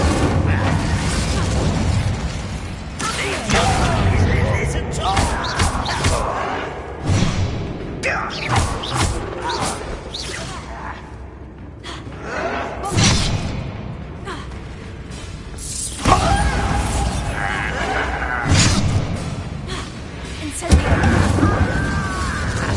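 Hogwarts Legacy Bombarda spell explosions in the video game, with repeated booming thuds and bursts among mechanical clatter and game effects, loud and close, while a voice talks over parts of the action.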